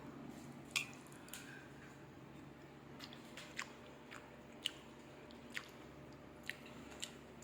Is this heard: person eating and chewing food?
yes